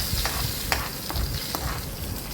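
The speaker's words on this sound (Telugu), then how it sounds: "ఆ రసంలో ఈ పోపు వేసుకోవాలి" A tempering of spices is poured into pachhi pulusu, a raw tamarind rasam, giving a steady sizzling hiss with a few sharp crackles and pops, close and moderately loud, with no talking.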